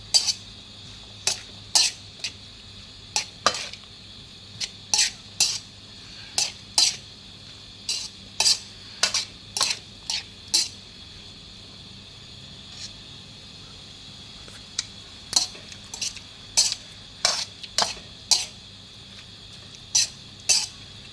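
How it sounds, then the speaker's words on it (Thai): Minced pork with kale stir-fried in a pan for pad kaphrao, rhythmic bursts of sharp spatula scrapes and clanks against the metal over a low sizzle, close and fairly loud. "ใครอยากแห้งๆก็ผัดเรื่อยๆจนกว่ามันจะแห้งนะ"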